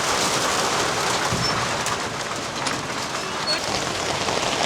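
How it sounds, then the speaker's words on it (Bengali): Rain falls steadily and heavily, a dense unbroken hiss that stays loud and even from start to finish, with no clear gaps. "বৃষ্টি হচ্ছে এদিকের মানে ভিতরের দিকে পানি ঢুকে যাচ্ছে"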